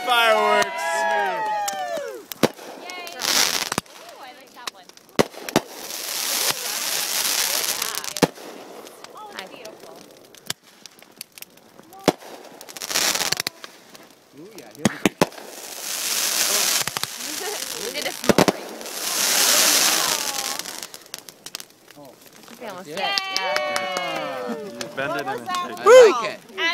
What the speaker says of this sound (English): We're lighting off some fireworks!